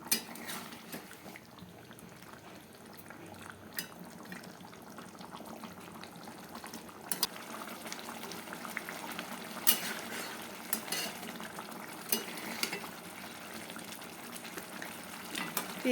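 Bengali vetki fish-bone kanta chorchori simmering covered in a pan, a soft, steady bubbling hiss with a few faint clicks and no talk.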